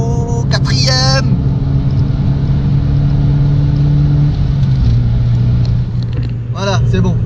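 A BMW E30 drones loudly on a motorway under acceleration, its steady engine note dropping in pitch as it shifts into fourth gear. Brief bits of a voice come through at the start and end.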